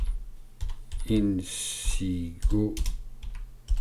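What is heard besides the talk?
typing on a computer keyboard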